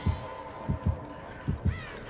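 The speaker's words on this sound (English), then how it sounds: "Heartbeat." A killer's heartbeat warning in Dead by Daylight: low, muffled double thumps pulsing in a steady rhythm, moderately loud against a quiet background.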